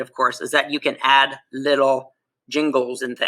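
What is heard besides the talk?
No everyday noises stand out.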